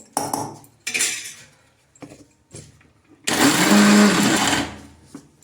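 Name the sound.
grinder coarsely grinding dry fruits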